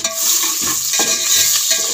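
Onions browning in a pan for rice in a village kitchen, a loud close sizzle with a few stirring scrapes across two seconds and no talking.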